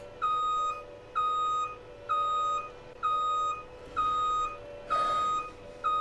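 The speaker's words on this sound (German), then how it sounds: "Kann mir jemand sagen, wie man dieses Gepiepe hier abstellt im Rückwärtsgang?" Reversing beeper on a vehicle in the farming game Farming Simulator 19, a steady electronic tone pulsing about once per second, six clear beeps over low engine hum, with no talking.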